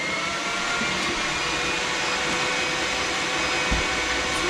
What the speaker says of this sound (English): I don't want to stand here for 15 minutes and hold my mixer.